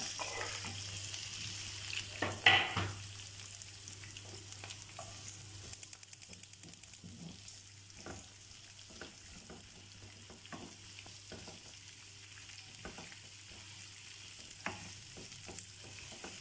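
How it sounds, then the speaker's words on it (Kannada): Onions and green chillies sizzle softly in a pan, with faint frying crackle, occasional stirring clinks and scrapes, and a low steady hum underneath. "ಚೆನ್ನಾಗಿ ಫ್ರೈ ಮಾಡೋಣ ಈರುಳ್ಳಿ ಎಲ್ಲ"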